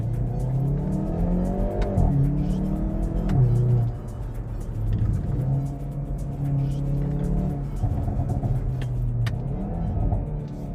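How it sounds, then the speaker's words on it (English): From inside a Hyundai i30N with the windows closed, the engine revs loudly and close, rising and falling through gears, with a sharp blip on a downshift into first and a steady drone afterward. "here's how it sounds while you're driving inside with the windows closed. Downshift into first gear."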